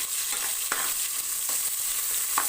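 Garlic and onion fry in a pan with a constant bright, hissing sizzle, broken by a few sharp stirring scrapes, close and fairly loud.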